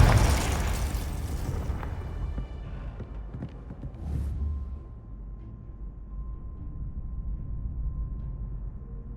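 An explosion from the Confringo blasting curse in a Harry Potter film opens with a big loud blast, then a long rumbling decay with smaller bursts and debris settling into a low, lingering tail.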